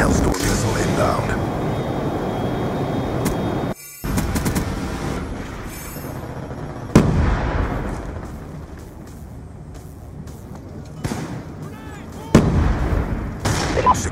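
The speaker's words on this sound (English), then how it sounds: "Friendly Hellstorm missile inbound." Hellstorm missile explosions from a Black Ops 2 Domination match on Hijacked: a heavy rolling barrage with several sharp booming impacts, mixed with ongoing gunfire and announcer speech.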